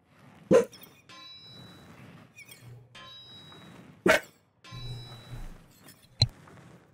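Dog barking in the medieval strategy video game Wartales: a few sharp, separate barks well spaced apart, with soft clanking and ambient game sounds and low tones between them.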